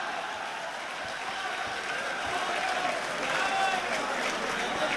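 Applause from a live audience at a Hindi satirical poetry recitation, a steady, dense wash of clapping that holds for several seconds and swells slightly toward the end.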